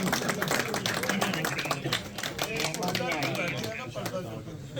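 Audience clapping at a pigeon-racing prize distribution ceremony in Birmingham, UK: dense, steady applause from a crowd, fairly close and sustained throughout, with a voice talking over it.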